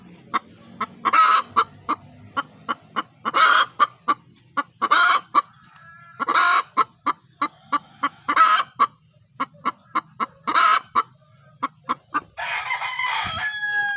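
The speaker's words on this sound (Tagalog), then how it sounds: "ating manok, pumuputak. Parang nangingitlog na po." A hen cackles repeatedly before laying an egg, sharp clucks in a steady rhythm broken by longer squawking bursts, close and clear with no talking.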